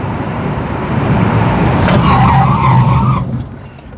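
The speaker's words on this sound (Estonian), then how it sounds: "pidurdame ka siis 90 pealt" Subaru Impreza WRX STI braking hard from 90 km/h, tires skidding and squealing on the road in a loud, continuous rush that fades away over the last half second.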